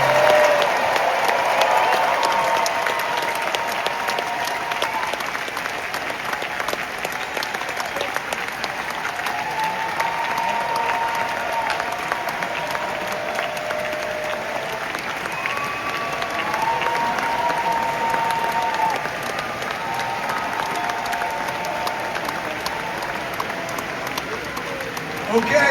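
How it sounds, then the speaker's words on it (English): Sustained audience applause and cheering from a large crowd at the TRON: ARES panel at San Diego Comic-Con 2025, a dense steady roar that holds at an even level for the full stretch. "I want you to give a big round of applause to the good folks from Tron ARES"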